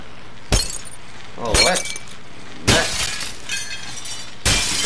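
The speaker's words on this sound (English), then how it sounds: "this glass is really easy to blow break." Several bursts of breaking glass in a physics-based game, four sharp shattering crashes spaced about a second apart, each trailing off quickly, with some speech in the background.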